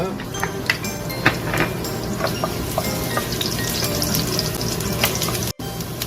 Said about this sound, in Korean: 다음은 마늘을 넣고 좀 볶아보겠습니다.